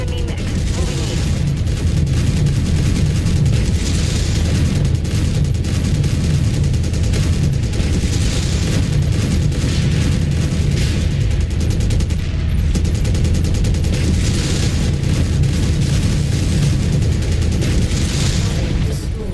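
Mech weapons firing in a combat video game, a steady barrage of heavy booming shots and bursts running continuously at high level, with periodic louder volleys layered over a constant rumbling battle bed.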